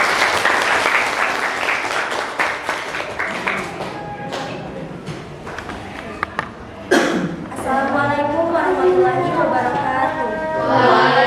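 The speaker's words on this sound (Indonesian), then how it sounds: "Berikan tepuk tangan." Applause from a school audience during a literacy event in an Indonesian high school, a burst of clapping that fades, with voices and children chattering underneath.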